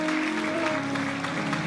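A church congregation applauds together, a steady wash of clapping carried over sustained musical tones and voices, loud and continuous throughout.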